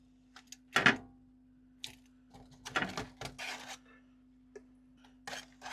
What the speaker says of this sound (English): Got my spatula. Should just peel right away from the skin.